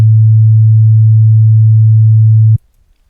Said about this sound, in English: This is the 110 hertz by itself.